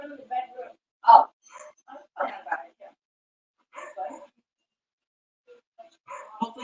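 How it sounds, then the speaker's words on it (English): Dogs shut in a bedroom bark and yip in loud, irregular bursts with short pauses between, heard from close by in a home. "My son just put him in the bedroom, the dogs. They're going nuts."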